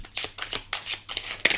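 A deck of tarot cards being cut and shuffled up close, a quick series of crisp riffling bursts in an uneven rhythm, with no talk.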